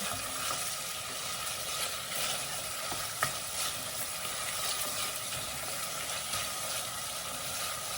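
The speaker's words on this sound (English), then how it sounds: "Stir it." Hot, spicy Thai green curry stirred in a pan, a steady close sizzle and frying hiss with soft scraping strokes running throughout, no voices.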